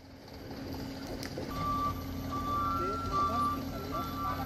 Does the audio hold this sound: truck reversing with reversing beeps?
yes